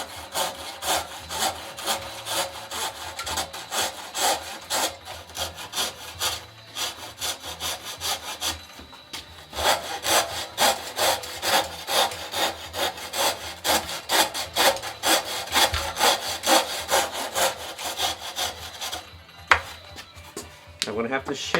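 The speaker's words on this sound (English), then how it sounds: "I want to use the rasp again." Hand rasp shaping a wooden Greenland paddle, a steady run of close, rhythmic scraping strokes that pauses briefly midway, then resumes.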